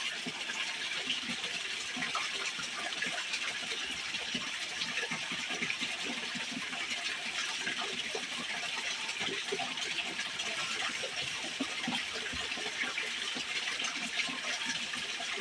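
Continuous rushing, sloshing water from gold panning on a creek, steady and fairly close throughout with no voices.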